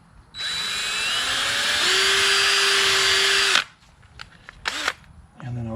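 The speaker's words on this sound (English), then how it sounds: "and I'll pre-drill one hole." Power drill pre-drilling a screw hole while installing a Larson storm door on a greenhouse, one sustained high whine of about three seconds, close and loud, then short clicks and handling noise.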